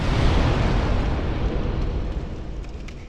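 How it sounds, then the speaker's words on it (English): The Force spell from the Dark Souls video game sets off an area explosion: a loud, broad rumbling blast that fills the clip and slowly fades, with faint crackling debris toward the end. "It basically creates an AoE explosion around you, knocking things back."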